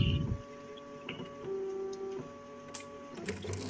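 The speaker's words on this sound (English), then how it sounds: "I hear a printer." An office printer in the game One Late Night runs quietly, its mechanical whirring broken by irregular clicks and feed clunks over a steady electrical hum.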